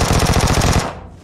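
Rapid automatic M16 rifle fire in the shooter game PUBG, a fast even burst of loud close shots that stops abruptly and rings off briefly.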